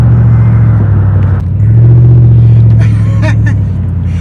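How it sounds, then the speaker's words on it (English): A car drives through rush hour traffic on the I-35 in Dallas, its steady engine rumble and road noise loud and close, swelling slightly midway as it speeds up. "I'm back in the rush hour traffic."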